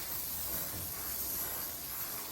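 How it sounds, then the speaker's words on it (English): A steady, continuous hiss of an IK pump sprayer misting carpet cleaner onto a car seat, even and fairly quiet throughout with no pauses. "We'll put it in the IK sprayer, give it a few pumps, and spray it on the seat."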